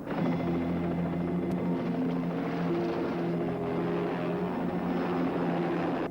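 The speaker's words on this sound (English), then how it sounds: "Your colleague is gonna put that chopper right in the water." A helicopter hovers over open water during a shark-fishing stunt. Its engine and rotor keep up a steady, loud droning hum with a low throbbing tone that neither fades nor changes.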